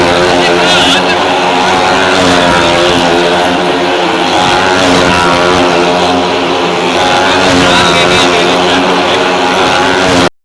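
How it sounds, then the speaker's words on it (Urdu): Motorcycles circling inside a well of death stunt show at a fair, a loud continuous buzzing engine roar with many layered harmonics and slight wavering as the bikes race around the wall, sustained throughout before stopping abruptly. "یہ موٹر سائیکلوں کی آواز بھی آپ لوگ تھوڑی سی سن لیں۔"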